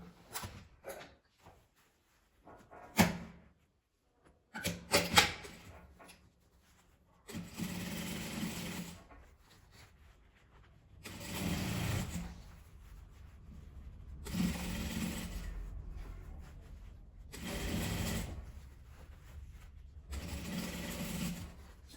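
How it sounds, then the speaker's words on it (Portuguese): A sewing machine stitches a seam around a small phone-holder mini bag, running in several bursts of steady motor whir with quiet pauses and handling clicks between them, close and fairly soft. "Vou passar uma costura aqui em volta dela toda."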